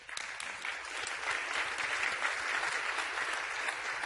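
A crowd applauds steadily, many hands clapping in a dense, sustained patter that holds at an even level throughout.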